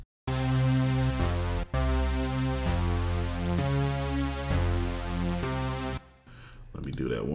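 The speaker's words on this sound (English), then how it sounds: "Let's see if we get a piano sound or something." A sampled piano sound played in Logic Pro makes loud, sustained chords that change every second or so. It stops abruptly before a brief, rougher tail at the end.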